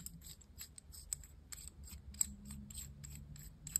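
A Kaweco brass sport fountain pen is worked open by hand, giving a run of small, close metallic clicks and scrapes. The ticks repeat unevenly over a low steady background hum.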